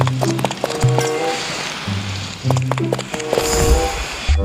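Horse hooves gallop in the fantasy video game Chimeraland, a quick run of clip-clop beats mixed with game music and effects, moderately loud and close.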